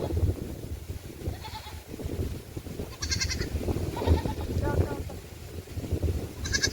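A young goat and its tethered mother bleat several times at a farm, their calls trading back and forth over rustling outdoor ambience, with people talking in the background.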